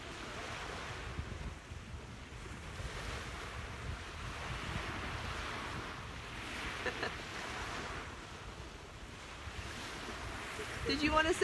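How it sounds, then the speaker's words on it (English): Ocean waves on the Gulf of Mexico at Bonita Beach in Southwest Florida wash in a soft, steady surge beneath constant wind rumble on the microphone, fairly quiet, with a faint rustle at the end. "Sharon, I'm at Bonita Beach, which is in Southwest Florida. We are on the Gulf of Mexico here."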